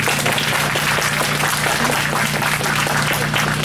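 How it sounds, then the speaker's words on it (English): Steady applause from a crowd at an outdoor apartment groundbreaking ceremony, a dense continuous wash of clapping at even loudness with a faint low hum beneath. "Give those two great entities a round of applause."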